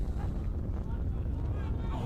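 Wind buffets a microphone outdoors at a sports tournament in Wellington, a steady, loud low rumble with rough gusty texture throughout.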